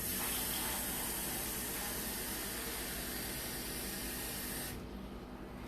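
Tap water runs steadily into a container to measure water for boiling rice, a continuous close gushing hiss that eases slightly near the end.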